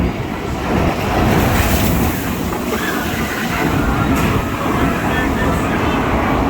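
A log-flume style water ride at an amusement pier in Galveston, Texas, with a steady, loud rush of churning water and spray roaring near the soak zone, continuous throughout while voices sound over it.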